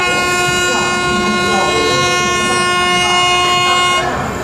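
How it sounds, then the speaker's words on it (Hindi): The Buddha Purnima Express thunders past a moving train on an Indian railway line, a loud, steady rush of wheels and wagons under a long sustained horn, close by and unbroken. "पूर्णिमा एक्सप्रेस क्रॉसिंग होती हुई हमारी ट्रेन के साथ"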